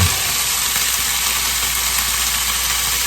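Olive oil mixed with avocado oil sizzles steadily in a pan, a loud, close, even crackling hiss with no talking.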